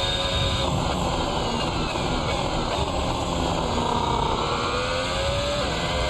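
A Formula 1 car at Suzuka in the Assetto Corsa racing game screams steadily at high revs, its engine note rising and falling through gear changes, loud and continuous with no talk over it.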